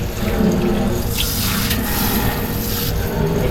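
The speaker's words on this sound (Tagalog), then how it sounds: "Spray na natin yung tubig." Water sprays steadily while a sink and faucet are being cleaned, a continuous close hiss of running water that lasts about three and a half seconds without pause.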